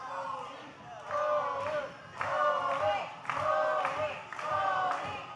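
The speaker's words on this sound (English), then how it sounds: "Hear those chants again from the crowd." A wrestling arena crowd chants in unison, loud rhythmic phrases of massed voices rising and falling in repeated bursts with claps mixed in.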